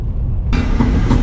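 Loud rattling and clattering of car parts on a BMW E36 drift car over a low rumbling drive, with a sharp rise in brightness partway through; no talking.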